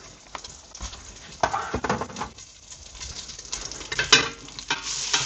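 A spoon stirs lentil stew with pork in a pot: irregular scraping swirls and sharp clacks against the pot's sides, close and moderately loud, with quieter gaps between bursts.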